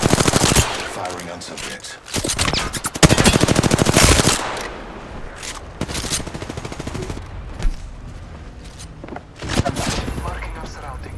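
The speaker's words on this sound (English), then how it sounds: "Getting shot at. Shots fired." Rapid automatic gunfire crackles in bursts during a video game squad firefight, loud dense volleys alternating with shorter clusters of shots and brief pauses, with a character voice briefly speaking between them.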